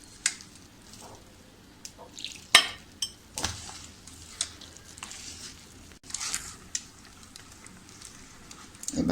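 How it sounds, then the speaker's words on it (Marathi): Gram flour batter stirred round in one direction after water is added, giving soft, intermittent scraping and sharp clicks of the utensil against the bowl, fairly quiet and close with no talking. "आपल्याला असं हे पीठ भिजवताना एकाच बाजूने असं छान असं गोलगोल गोलगोल असं फिरून घ्यायचं"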